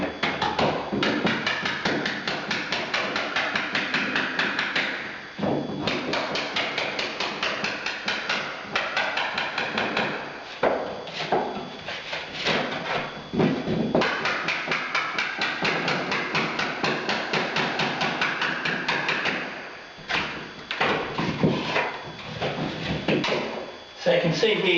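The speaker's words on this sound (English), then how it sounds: "just tap it with a hammer and hopefully the tiles will come off pretty easily" Rapid metallic tapping of a hammer on a scraper to remove kitchen wall tiles, repeated in quick bursts with brief pauses, fairly close and loud.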